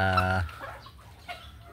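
Turkeys and chickens in a backyard pen peck at broken rice; a loud, drawn-out bird call opens, then softer clucks and scratchy movement follow close by.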